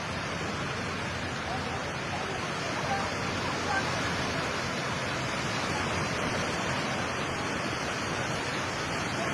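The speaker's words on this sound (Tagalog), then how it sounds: "Oh, balik ng dagat." Sea water rushing back toward shore after an earthquake in the Philippines: a steady, dense roar of surging water, loud and unbroken throughout, with voices faintly mixed in.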